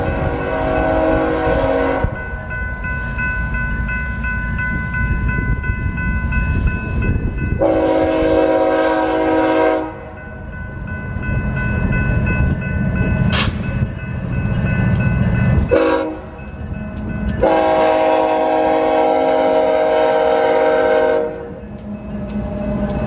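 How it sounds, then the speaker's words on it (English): A train rumbles past steadily through the town of Zurich, Montana, while its horn blasts three long times, with a brief high squeal between blasts. "This train is coming through the town of Zurich."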